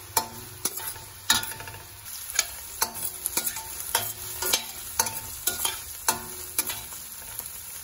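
Onions, green chillies and curry leaves frying in a pan for cauliflower curry, with a constant sizzle and a regular series of sharp spatula taps and scrapes every half second or so, close and clear, with no talking.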